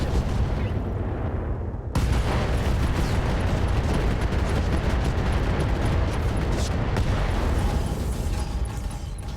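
A barrage of weapons fire against a Crusader mech in RogueTech, heard as a dense, loud, sustained roar of booms and blasts. A brief quieter moment comes first, then the fire holds steady until the end.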